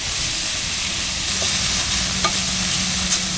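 Mushrooms, onion and garlic frying together in an oiled pan, a loud, steady close sizzle with a few faint stirring ticks and no voices.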